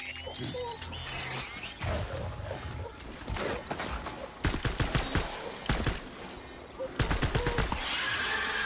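Gunshots fired at a BT in Death Stranding, with sharp, close reports in separate clusters over a dense, noisy backdrop of game ambience and other effects.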